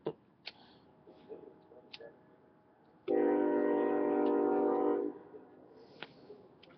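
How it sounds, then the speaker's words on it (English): A train horn sounds once in a single sustained, steady blast of about two seconds, fairly loud but somewhat distant, heard late at night against faint background ticks and small knocks. "So a train just honked"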